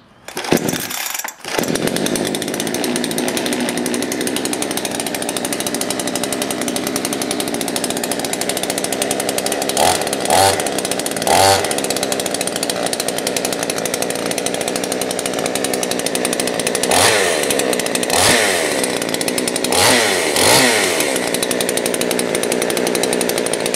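A Baus chainsaw engine runs continuously at close range after starting, a loud steady buzzing drone with a few brief revs and dips in pitch, no voices.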